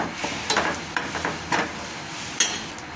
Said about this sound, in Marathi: सुको खोबरं टाकायचं अर्धी वाटी याला भाजून घ्यायचं